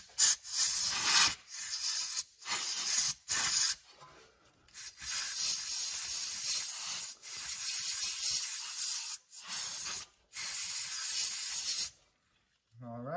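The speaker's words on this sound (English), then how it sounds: "I'll just use like a can of computer duster" Repeated bursts of compressed air from a computer duster can blasting brake dust off the rear brakes of a 2016-2022 Lexus RX350/RX450h, a loud close hiss in roughly a dozen spurts with short gaps between them.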